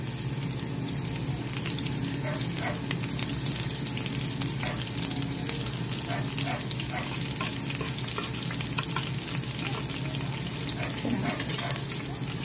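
Fish fries in a pan of hot oil, a continuous crackling sizzle with scattered pops that stays steady and close throughout.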